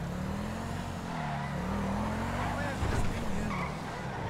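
A modded car in GTA 5 drives and skids, its engine drone held steady under a wavering tire squeal, close and continuous, with a brief louder scrape near the end.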